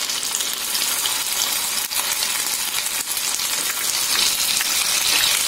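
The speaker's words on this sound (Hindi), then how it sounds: "ऑयल अच्छे से गर्म हो गया है, अब हम एक एक सोयाबीन की बड़ी इसमें डालेंगे।" Soya chunk pakoras fry in hot oil with a steady, dense, crackling sizzle that continues without pause for the whole stretch.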